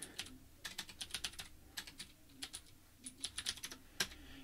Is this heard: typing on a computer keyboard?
yes